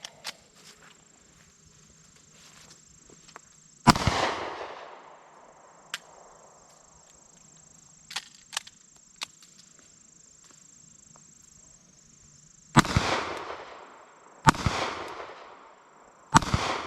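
Sharp gunshots ring out at a shooting range during a trigger-control drill with dummy rounds, one loud crack followed by a gap, then three more reports in fairly quick succession, with light handling clicks in between.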